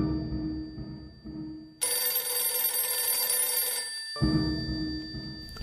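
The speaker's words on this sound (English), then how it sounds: "I think the phone is ringing." A telephone rings in a detective radio drama: a single long, bright electronic ring sounds for about two seconds over a low, steady background hum, then cuts off.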